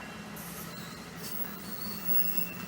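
A New Jersey Transit train rolls past at Iselin, its wheels squealing in a sustained high whine above the heavy, continuous rumble of railcars, with no talking.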